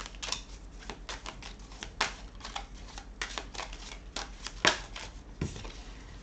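Tarot cards are handled and laid down during a reading, making a run of light, quick card slaps and flicks at an uneven pace, close and fairly quiet over faint background noise.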